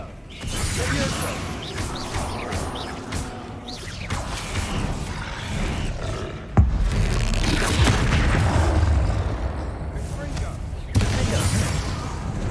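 Bombarda explosion spells in Hogwarts Legacy go off during frantic combat: a couple of sharp booms rise over constant rumbling battle noise, while a voice shouts spell names throughout.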